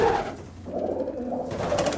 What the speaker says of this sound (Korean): 한쪽에선 짝짓기를 시도하기 위해 수컷 비둘기가 열렬히 구애 중이다.